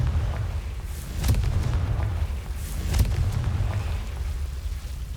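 Two muffled booming blasts of the Confringo explosive spell in Hogwarts Legacy, about two seconds apart, over a steady low rumbling background.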